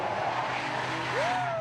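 A car in a driver-education scene sweeps past with a brief rising tire squeal near the end, over a hum of engine and road noise.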